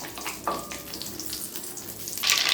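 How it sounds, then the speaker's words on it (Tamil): Mustard seeds splutter in hot oil for a Tamil lemon pickle, giving faint, scattered crackles and sharp pops, with a louder hissing sizzle near the end. "கடுகு பொரிஞ்சிச்சு"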